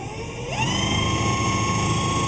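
A solar-powered electric outboard motor on a fishing boat spins up with a rising whine, then settles into a steady, loud, continuous electric hum with a constant tonal pitch, heard up close with no talking.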